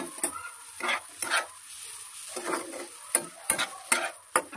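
Potatoes being stirred into a spiced masala frying in oil, with repeated scraping strokes of a spatula over a steady soft sizzle, close and fairly quiet.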